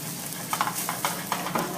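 Pot roast in Yuengling barbecue sauce is stirred in a pot, giving a few soft, regular scraping strokes over a low, steady sizzle, close and fairly quiet.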